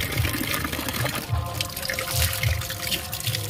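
Water runs from an outdoor supply tap, splashing and trickling in an uneven stream with small surges, moderately close and without speech.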